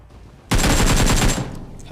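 Machine gun fire in a PUBG match on the Erangel map: a loud, rapid burst of close shots lasting about a second, then a quick fade into quiet.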